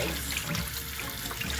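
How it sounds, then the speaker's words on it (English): Cold tap water runs steadily over saltfish being rinsed in a sink for a Jamaican saltfish fritter recipe, a continuous close splashing wash with no talking. "what I do is I wash it off in cold water"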